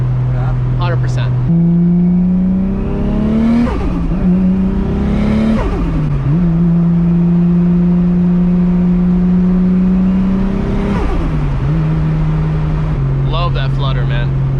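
A 2JZ engine on E85 with no blow-off valve pulls hard through the gears, its rising engine tone broken at each shift by fluttering turbo chatter, loud and close, with people talking over it.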